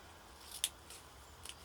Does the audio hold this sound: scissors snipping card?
yes